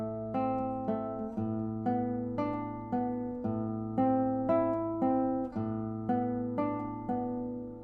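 Guitar plays the opening measure of a piece, a repeating sequence of plucked chords, each struck and left to ring and fade in an even rhythm, soft and close with no voices.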